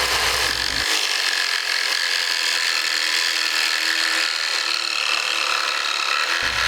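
Cordless jigsaw cutting quarter-inch hardboard templates, a loud, steady buzzing rasp of the blade running continuously for several seconds, close up and with no talk.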